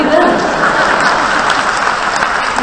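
Audience applause at a spiritual talk, a steady dense wash of many hands clapping close and loud throughout, with no break.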